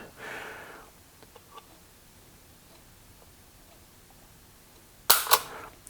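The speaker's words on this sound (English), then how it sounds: "let's pull this trigger a few times and see what the reading is." A Mateba Model 6 Unica .357 Magnum autorevolver has its trigger dry-pulled, giving two sharp, close clicks in quick succession near the end after a long quiet stretch.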